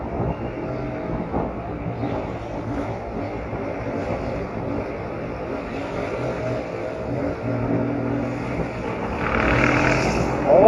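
Powerful motorcycles thread through the corridor between lanes of city traffic, a continuous engine roar and road rumble that swells louder toward the end as one passes close by.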